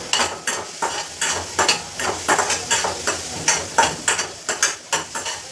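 Onion, tomato, turmeric, chili, salt and garam masala are stirred in a sizzling pan, a spoon scraping in quick rhythmic strokes about twice a second over a steady frying hiss, close and loud, no talking.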